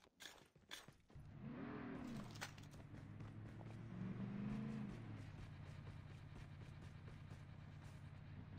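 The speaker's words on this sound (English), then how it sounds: "I can hear a car already." A car engine hums steadily nearby, rising briefly in pitch as it accelerates, with a faint rumble continuing underneath and no one talking.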